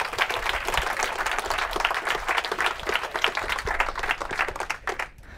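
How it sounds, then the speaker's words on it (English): A crowd applauds steadily for several seconds at a Cambridge University debate, dense clapping filling the room before tapering off at the very end. "We give him a round of applause, please."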